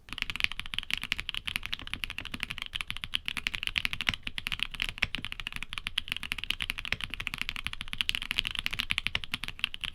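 Rapid, continuous clacking of mechanical keyboard keys, a dense, steady stream of crisp close-up keystrokes with no talking.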